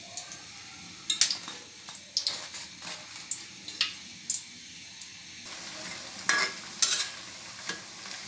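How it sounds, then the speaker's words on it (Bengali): Onion fritters (piaju) being lifted out of hot frying oil, with scattered soft sizzles, clicks and stirring scrapes in a repeating pattern over a faint oily hiss. "আমার সবগুলো পেঁয়াজ ভাজা হয়ে গেছে,"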